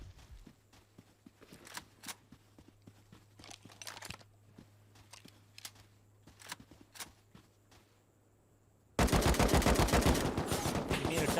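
Gunfire in a PvP fight in the game Rust: scattered single shots and footsteps at moderate distance, then a sudden loud, close burst of rapid automatic fire over the last couple of seconds.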